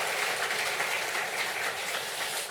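A congregation claps at a church founding service, a thick, even wash of applause that holds steady and fairly close throughout, with no voice on top.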